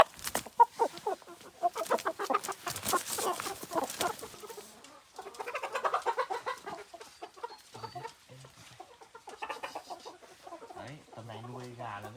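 Chickens clucking on a Vietnamese farm as newly bought hens are let loose, busy fowl calls rising and falling across the clip while people talk nearby.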